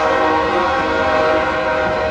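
Passing train sounding a loud, sustained horn chord at close range, steady and unbroken over the rumble of the rail cars.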